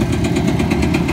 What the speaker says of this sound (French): je sais même pas ce que c'est comme moteur là-dessus